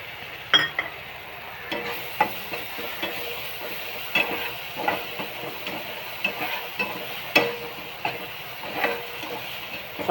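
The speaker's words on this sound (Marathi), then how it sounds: "वाटण चांगलं परतून घ्यायचं आहे बघा." A paste of ginger, garlic, coconut and onion is sautéed in a pan for a stuffed capsicum and potato dish, with a soft steady sizzle broken by intermittent scraping stirs of a spoon, close up and without speech.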